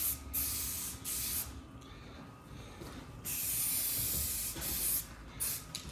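A light coat of black spray paint going onto a 1969 Triumph Vitesse during restoration, heard as about four close hissing bursts separated by short pauses.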